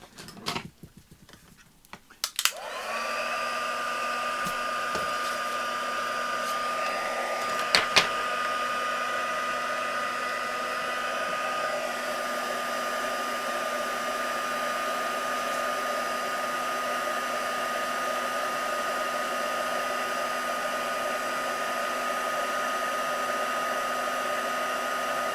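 A heat tool blows steadily to dry a craft journal tag, starting after a brief clatter and running as a loud, continuous whirring hum with a few short knocks partway through.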